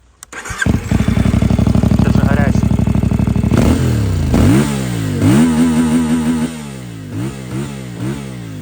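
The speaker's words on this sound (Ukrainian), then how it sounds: "Дуже класний звук в цього мотоцикла. Зараз я заведу. Послухаєте." A CF Moto 450 MT motorcycle engine fires up close by and idles with a steady, throaty rumble, then revs repeatedly, the pitch rising and dropping in several loud bursts.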